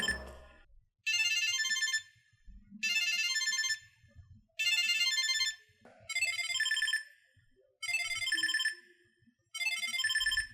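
A Samsung Galaxy SmartTag 2 repeating electronic ringtone, bright chiming tones in about seven short bursts separated by brief pauses, clear and fairly close.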